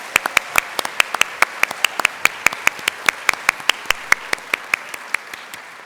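Rhythmic, evenly spaced hand claps ring out clearly and close at a staff service and excellence awards ceremony, sounding like one or a few people clapping in steady time rather than a full crowd.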